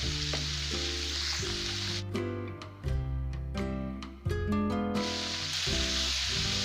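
Vegetables sizzle and fry in an open pan for vegetable noodles, a steady loud crackle with intermittent stirring clatter and utensil scrapes throughout.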